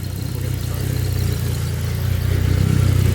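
A Nissan GT-R engine, freshly built, idles steadily with a low, rhythmic rumble close by, its level rising slightly toward the end, with no voices over it.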